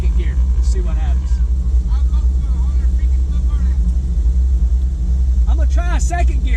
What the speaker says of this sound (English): I think we're going to try a second gear burnout